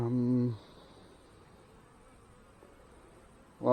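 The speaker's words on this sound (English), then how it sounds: "Lots of bees down here." A loud buzzing hum at the start and end frames a quieter stretch of steady, low drone from honey bees swarming close by during a hive inspection.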